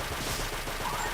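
Rapid gunfire in a Mega Man Star Force 2 video game battle, a dense close burst of repeated shots over a loud, busy game soundtrack.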